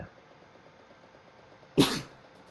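One sharp, loud sneeze bursts out after a quiet stretch during a tabletop game session.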